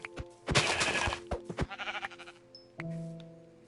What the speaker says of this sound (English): there's a sheep. Like, right there, I'm gonna beat it up with a shovel.